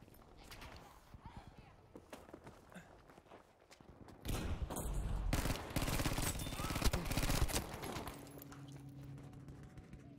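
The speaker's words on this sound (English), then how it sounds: "What are you shooting at?" Gunfire in the video game Battlefield V comes as scattered shots and then heavier sustained bursts of automatic fire, fairly loud, with a few thuds mixed in.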